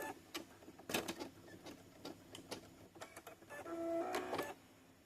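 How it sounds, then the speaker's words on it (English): An embroidery machine stitching a name onto a teacher ID badge, heard as a faint, uneven run of mechanical clicks and ticks with a brief hum near the end. "So I'm going to go ahead and start stitching the name."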